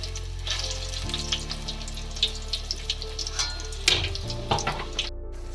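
Stuffed mirchi bajji frying in hot oil, a continuous close sizzle and crackle with a few brighter pops, running steadily and heard alone.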